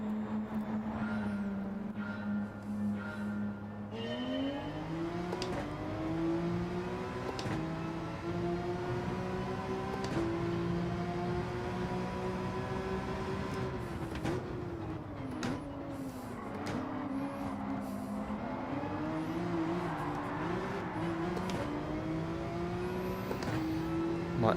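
Porsche race cars racing in Gran Turismo 7 on PSVR2, a continuous engine whine rising and falling through gear changes and throttle lifts, sustained and fairly close with no talking.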